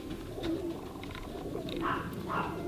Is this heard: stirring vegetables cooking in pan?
no